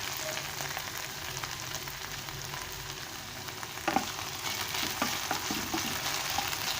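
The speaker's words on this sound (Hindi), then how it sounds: "हाणे ही भिंडियूं असांजूं पची वयूं आहिनि। ॿ मिंट मां हिनखे तेज़ बाहि ते पचायां थी।" Okra (bhindi) frying in a pan over high heat, a loud, dense, continuous sizzle with a few brief stirring scrapes and crackles partway through.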